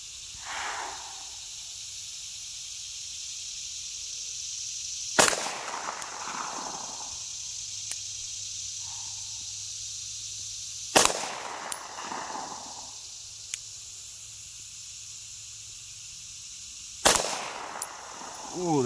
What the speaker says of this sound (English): We're going to fire 5 rounds.